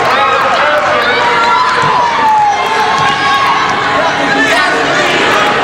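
A large crowd at a Northeastern Conference basketball game keeps up a loud, continuous roar of cheering and shouting, with voices layered throughout and no break.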